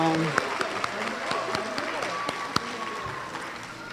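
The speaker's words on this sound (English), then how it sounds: "All right, let's give those families another round of applause." An audience applauds award-winning families at a school district parent awards ceremony, a steady dense patter of many hands with a few sharper claps standing out and a voice faintly present underneath.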